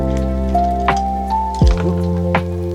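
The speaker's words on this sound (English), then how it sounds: "We're going to give this a gentle stir because we are classy sometimes." Fizzy highball cocktail gently stirred with ice, soft clinks and liquid swirls over a steady fizz, close and fairly loud with a low background hum.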